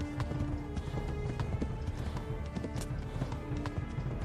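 Horse hooves galloping in the medieval game Kingdom Come: Deliverance, a steady rapid clip-clop rhythm running loud and continuous through the whole stretch with a busy background of game sound.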